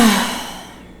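A single deep breath during a guided heart-centered meditation: a soft, close, breathy rush of air that fades steadily over about a second, with no talking.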